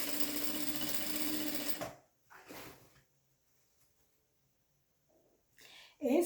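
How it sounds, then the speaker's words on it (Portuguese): Sewing machine stitching fabric strips for a 3D Seminole patchwork rug, a steady close whir for about two seconds, then stopping, followed by quiet handling noises and brief speech. "e vou costurar"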